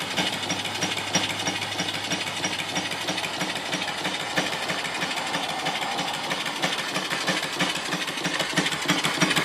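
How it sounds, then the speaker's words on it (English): An off-grid steam engine fed by a boiler, running with a fast, steady chuffing and mechanical clatter that stays loud and constant throughout, heard close up with no talking. "I've been running the engine here and this boiler keeps up with the use of the steam off the engine really well."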